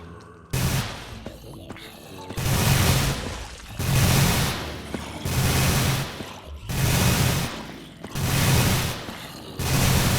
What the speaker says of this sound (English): So, the turret doesn't fire continuously.